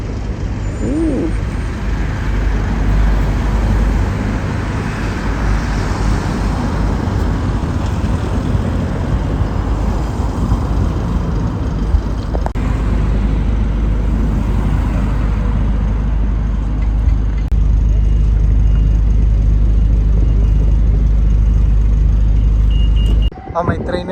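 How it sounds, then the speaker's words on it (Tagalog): A train passes near a cycle route by the Cambridge South Station construction site, a loud, steady low rumble lasting over twenty seconds before cutting off. "Oh, may train na dumadaan."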